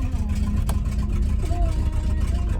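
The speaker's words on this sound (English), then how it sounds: "You can hear our 74 GMC running." 1974 GMC C10 truck engine idling steadily close by, a low continuous rumble with a brief click and faint squeak over it.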